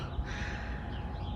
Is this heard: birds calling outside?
yes